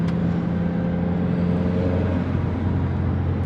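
A 6 speed Altima-type car engine pulls hard at wide open throttle from 2,500 rpm in second or third gear, a loud, steady, droning rumble heard from inside the cabin with a slowly shifting engine tone.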